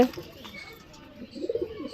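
Murshidabadi Giribaz pigeons coo in low, soft bursts that swell toward the end, with faint background rustle and a hint of distant voices.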